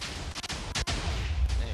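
Minecraft TNT cannon firing in a video game, a sequence of deep booming blasts, several quick thuds and then a heavier explosion followed by a rumbling low tail.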